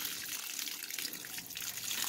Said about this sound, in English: by having this water be able to run over top of the sponge